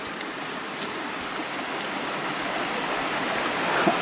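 Creek water flows steadily over rocks in a broad, continuous rush, close and even in level throughout, with no voices.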